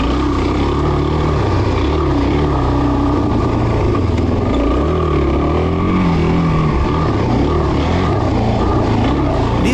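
A Suzuki DRZ400 dirt bike rides a soft desert turn track in the Mojave, its engine loud and close with a continuous growl that rises and falls in pitch as the rider works through the turns.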